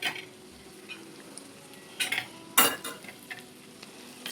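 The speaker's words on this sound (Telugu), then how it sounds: "ఫ్లేమ్ హైలో పెట్టండి, కలపండి, రోస్ట్ చేసేటట్టు." Egg fried rice with carrot, pepper, salt and curry leaves stirred in a pan over high flame, giving a low constant sizzle broken by a few sharp spatula scrapes and clanks against the metal, close and without talk.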